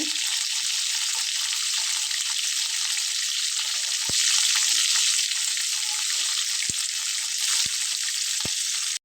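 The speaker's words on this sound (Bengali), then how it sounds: "হলুদ এবং লবণ দিয়ে এটাকে আমি একটু কষিয়ে নিয়েছি" Vegetables sautéing in a pan with turmeric and salt give a steady, loud frying sizzle throughout, broken by a few sharp clicks of a utensil against the pan.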